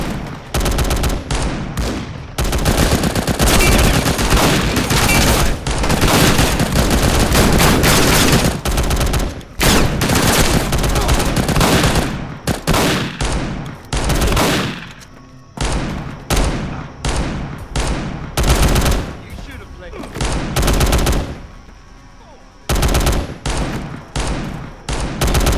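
Heavy gunfire from a GTA San Andreas zombie mod, with loud sustained bursts of automatic fire broken by short pauses and then choppier volleys of shots near the end, with no talking.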